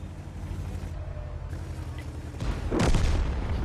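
Tank cannon shot in a tank video game: a deep, loud boom rumbles out over continuous low engine and battle noise, late in the clip.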